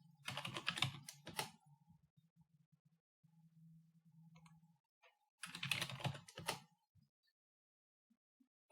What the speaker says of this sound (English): In the Name column, I can type in the name of a student,